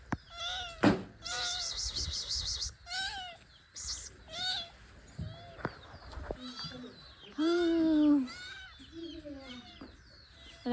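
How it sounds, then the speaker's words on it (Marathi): A kitten meows several short, high times close by in a village home, mixed in with people talking and other animal sounds. "मी मांजराचं पिल्लू पण आणले मस्त."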